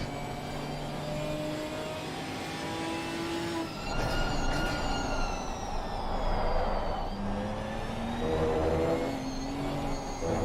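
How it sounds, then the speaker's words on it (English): A 6-cylinder GT4 race car engine in a racing video game at Misano revs and shifts through gears, rising and falling pitch sweeps with a loud surge midway, no talk over it. "Nice little 6-cylinder in here, I think."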